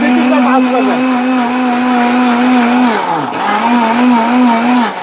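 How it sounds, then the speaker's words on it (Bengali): A loud electric blender whirs steadily close by while grinding seeds, its motor pitch dipping briefly under load and recovering, with a person talking over it. "আমাদের সাধারণত ব্যালেন্ডার বিচি বাটা হয় না"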